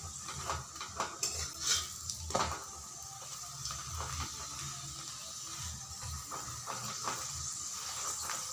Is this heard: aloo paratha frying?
yes